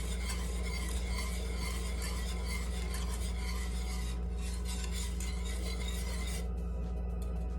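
Spoon stirring sugar into water in a container to dissolve it for rock candy, a steady continuous scraping and swirling close up with no talking.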